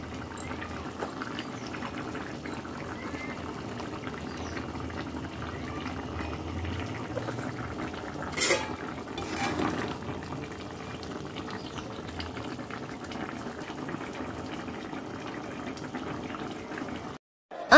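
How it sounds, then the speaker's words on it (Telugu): Mutton curry with drumstick pieces simmers in a covered pot, giving a low, steady bubbling hiss throughout, with one brief clatter midway and no voices. "ఇంకొక 5 నిమిషాలు సిమ్లో పెట్టి మగ్గించుకుందాం మూత పెట్టేస్తున్నాను"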